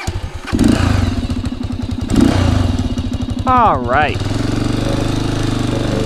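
A Halcyon 450 motorcycle engine with a dented exhaust idles with a steady, throbbing rumble close by, briefly revving once; someone says a couple of words over it.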